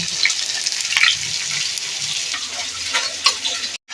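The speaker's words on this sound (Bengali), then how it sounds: "এইভাবে সবগুলোকে ভেজে নিয়ে দেখ এবারে ডিমগুলো হয়ে গেছে তুলে নেব" Fish roe fritters sizzle steadily in hot oil in a pan, a dense continuous crackle with occasional scraping as they are moved, close and loud until an abrupt stop.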